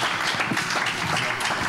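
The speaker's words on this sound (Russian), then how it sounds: "Аплодисменты." Full audience applause at a talk show about success, a sustained wash of many hands clapping at close range with no speech over it.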